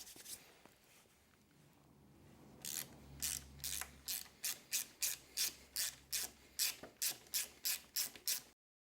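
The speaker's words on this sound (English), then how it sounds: "So just a little, I think it's a 4mm Allen bolt to undo." A hand ratchet undoes 4mm Allen bolts near a brake master cylinder, ticking in a steady run of about fourteen crisp, close strokes after a soft rustling start.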